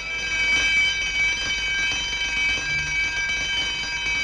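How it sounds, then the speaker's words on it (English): A palace alarm sounds as a steady, continuous ringing tone that holds unchanged throughout, moderately loud over a faint background hum, with no talk. "That alarm meant that someone had been captured."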